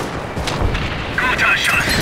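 Gunfire and explosions from the Stalingrad 42 mod of Company of Heroes, a dense, loud wash of booming blasts and cracking shots with chattering voices mixed in throughout.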